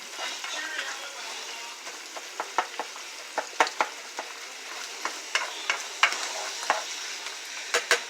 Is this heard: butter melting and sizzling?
yes